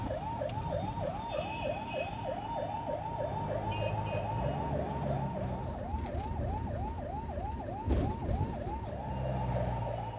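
Ambulance siren wailing in a fast, repeating up-down sweep through Indian city traffic, steady and fairly close for the whole stretch, with engine and road rumble underneath.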